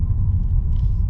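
Mercedes C300 W204 driving along a residential street, a steady low engine and road rumble from inside the cabin, continuous and moderately loud with no talk.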